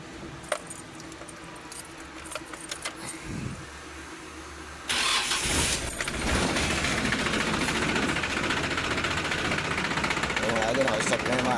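Mitsubishi Canter truck with a 4D31 diesel engine: keys jangle, then the engine cranks and catches abruptly, settling into a steady, close, rattling diesel idle that continues to the end.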